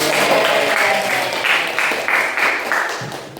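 Students in a classroom clap briefly for a group after its grade is announced, a short burst of applause with some voices mixed in.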